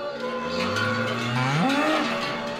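A cow lows loudly nearby with a long rising and falling moo during a traditional alpine ascent to summer pasture, over a faint outdoor background.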